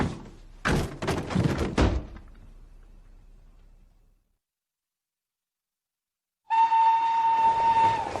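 A train at a station gives a few heavy metallic clunks and rattles that fade into silence, then a long, steady, loud whistle-like tone sounds until the end.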